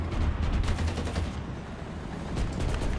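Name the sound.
tank machine gun firing, T-72B3 in a video game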